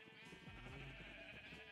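A sheep in the Minecraft video game gives a single soft, wavering bleat, quiet and alone.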